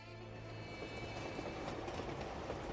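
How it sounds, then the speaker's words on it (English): A train in the Uncharted 2 video game (Nathan Drake Collection, PS4) rolls along its tracks with a low, steady rumble and soft rhythmic clatter, faint and without talk. "Train had to curve here."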